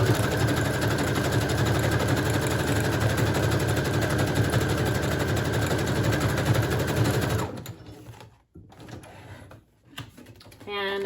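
A sewing machine runs a steady, rapid zigzag stitch attaching lace to wallpaper junk-journal pages for about seven seconds, then stops, leaving quieter handling noises.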